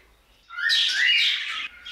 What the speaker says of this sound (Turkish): Yine kur davranışları sergiliyor Pastel